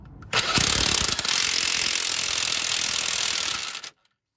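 A deep socket on a ratchet or impact tool tightening the new nut on an outer tie rod end of a Dodge/Chrysler car, a steady loud mechanical whirring burst lasting about three and a half seconds, then stopping abruptly into silence.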